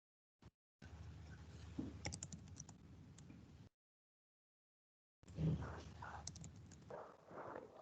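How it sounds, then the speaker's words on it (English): Soft, scattered keyboard clicks in two stretches of faint room noise, separated by a brief silent gap. "Are you typing in the chat box?"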